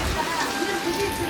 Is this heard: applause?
no